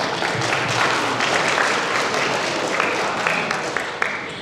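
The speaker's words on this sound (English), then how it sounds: "Let's have a round of applause for Hassan." An audience applauds at a business presentation event, a dense, continuous wash of clapping from many hands that holds steady for several seconds.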